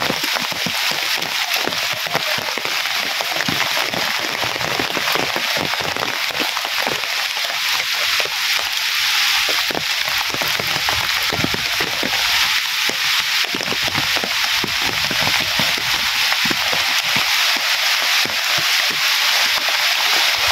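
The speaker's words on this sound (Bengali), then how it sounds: "আরে বৃষ্টি জমছে, বৃষ্টি এখন বেশি।" Heavy rain pours down in a steady, dense hiss with constant patter, loud and unbroken throughout.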